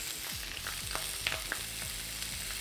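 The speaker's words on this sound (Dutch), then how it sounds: "En dan ga ik even rustig de worstjes bakken." Beef chipolata sausages fry in a pan with a steady, close sizzle and a few clicks and scrapes as they are turned, and no voices.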